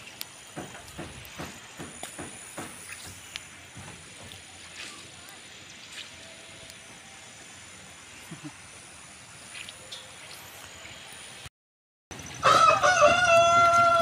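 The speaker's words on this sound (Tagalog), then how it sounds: "dito tayo sa pinakamalaking manok" A rooster crows at a large rooster landmark in the Philippines, set against a faint background. Near the end the recording cuts out briefly, then louder, closer sounds follow, and people talk at points through the clip.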